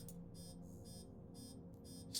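Repeated electronic warning beeps from a Star Citizen game in short regular bursts, high-pitched and steady, over a constant low hum with no talking.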